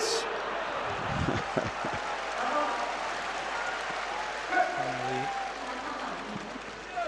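A crowd at a Wushu Sanda World Cup semifinal applauds, steady clapping and murmuring spread across the arena at moderate distance, continuing throughout beneath occasional louder thumps and rustle.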